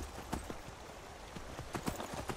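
Horse hooves in Skyrim, several hard, uneven clip-clop strikes on ground, spaced irregularly over a low ambient bed, moderately close and clear.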